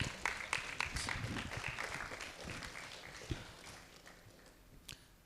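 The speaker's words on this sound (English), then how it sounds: "A great round of applause for Ravi sir." Audience of students and parents clapping at a school event, a fairly faint burst of applause that gradually thins into sparse, separate claps and fades out.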